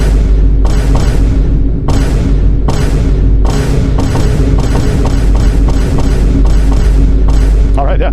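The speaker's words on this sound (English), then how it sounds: "let's have a moment of silence for 19 Vine Booms for Bad Dog" A deep, booming Vine Boom sound effect added in editing, hitting again and again in a rapid string of about a dozen loud, resonant thuds that come closer together toward the end.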